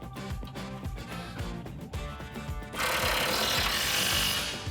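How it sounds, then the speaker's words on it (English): Impact wrench with an 18mm socket tightening a sway bar end link during a suspension lift on a 2015-2019 Ford F150, rapid rhythmic hammering at close range, then a louder, harsher whirring burst near the end. "And tighten it down with your 18mm socket."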